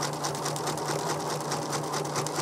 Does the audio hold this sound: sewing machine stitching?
yes